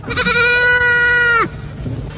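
A goat bleats once, loud and close, a long wavering cry lasting over a second before cutting off, with a quiet background afterward.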